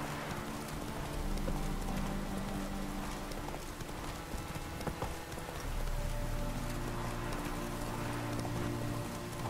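Hooves of a horse galloping in The Witcher 3 video game, a steady clip-clop rhythm running throughout under a dense, continuous bed of game ambience and music.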